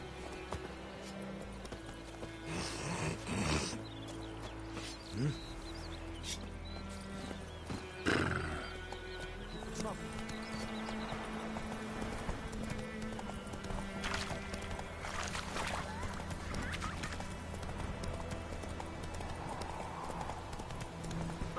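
Roach the horse galloping in The Witcher 3, rhythmic hoof clip-clops with an occasional whinny, set against game ambience and a few brief spoken lines.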